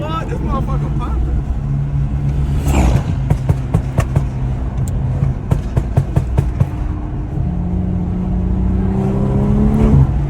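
BMW 340i tuned to around 900 bhp revving hard with sharp exhaust pops and crackles, a burst of rapid bangs over a loud engine drone, with people talking over it.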